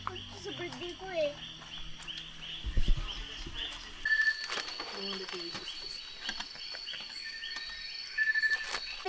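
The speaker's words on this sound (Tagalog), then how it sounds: "Ganda namang huni na ibon." Birdsong outdoors: thin high whistles and chirps scattered through the clip, fairly faint under other background sounds, with several clearer whistled notes in the second half.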